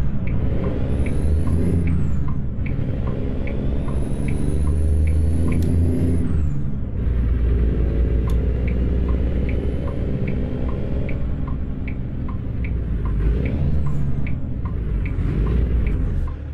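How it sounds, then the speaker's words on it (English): A heavy truck engine in American Truck Simulator idles with a steady deep rumble, a faint rhythmic ticking and occasional high whining tones above it, continuous and close. "I love that idle, that rumble"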